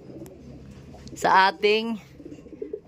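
Racing pigeons kept for a derby coo close by, two throaty, rolling coos in quick succession over a quiet background, with a brief spoken word nearby.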